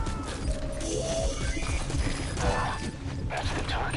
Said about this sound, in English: D-Horse, I need you.